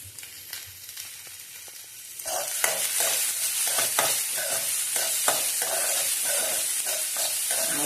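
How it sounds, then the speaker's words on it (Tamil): Chopped onions sizzle and fry in a pan while a utensil stirs them, a quiet start that turns into steady loud frying with rhythmic scraping strokes, no voices. "வெங்காயத்தை கட் பண்ணி வைத்திருக்கிற வெங்காயத்தை போடவும்."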